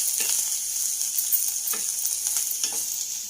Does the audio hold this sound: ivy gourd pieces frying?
yes